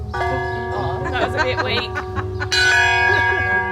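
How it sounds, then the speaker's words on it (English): An old 1800s school bell in a ghost town rings out with sustained metallic tones, first a softer strike under a speaking voice, then a louder, brighter ring that lingers to the end. "This is how school bells used to be, guys."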